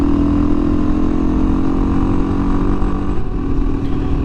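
A 2017 Beta 500 RR-S dual sport motorcycle drones at steady high revs in top gear, loud and continuous, with the engine note holding almost constant throughout.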